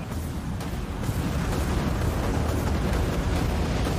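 Enemy ship destroyed by missile fire in the space combat game Dreadnought, a sustained, dense, rumbling explosion roar that holds steady for several seconds.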